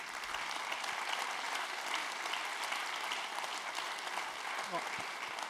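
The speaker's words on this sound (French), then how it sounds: "donc on l'applaudit pour son travail" An indoor audience applauds a stonemason at a building-trades awards ceremony, giving dense, sustained clapping that holds steady throughout, with faint voices underneath.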